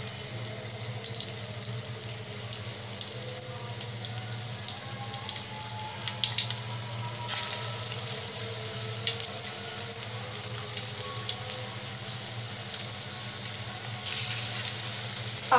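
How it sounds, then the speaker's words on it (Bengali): Malabar spinach pakoras fry in hot oil, giving a steady, close hiss and crackle that runs without pause, with bursts of sizzle as pieces go in. "এখন আমি গরম তেলে একটা একটা করে পাকোড়াগুলো দিয়ে দেব।"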